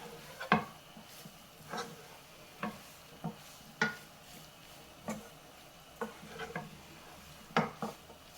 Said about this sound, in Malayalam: എല്ലാം കൂടെ ഒന്ന് ഇളക്കി നല്ലതുപോലെ മിക്സ് ചെയ്ത് കൊടുക്കാം.